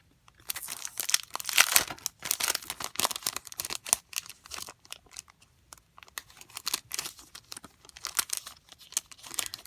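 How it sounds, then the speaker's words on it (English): A packet of jumbo washi stickers being opened, with irregular bursts of close crinkling and rustling plastic, loud in spurts and quiet between them. "we're going to go ahead and open this up, this packet of jumbo washi stickers"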